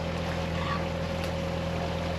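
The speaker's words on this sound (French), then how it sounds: "j'ai rallumé le moteur." The inboard engine of a sailboat crossing from Melilla to Malaga runs after a restart, a steady low droning hum with a constant tone, heard alone with no speech.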